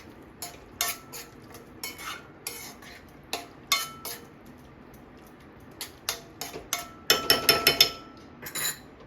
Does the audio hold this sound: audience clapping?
no